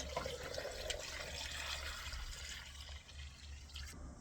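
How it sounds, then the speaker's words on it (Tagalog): Water runs and splashes steadily into a pot for beef bulalo in a home kitchen, a close continuous pouring rush that tapers near the end. "Lagyan natin ng tubig."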